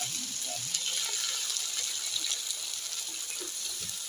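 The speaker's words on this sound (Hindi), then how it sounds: "सब्जी हमारी भून गई है और अब हम इसमें पानी ऐड" Water poured into a pan of potato and pea curry, a steady, moderately quiet hissing gush that runs unbroken throughout.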